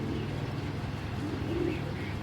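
A male black checker racing pigeon coos in low, steady, rolling tones close by, continuous for the whole moment with no talking.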